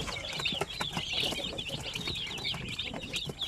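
Chicks and chickens at a Philippine poultry farm, a dense crowd of high peeping chirps mixed with soft clucking, continuous and close.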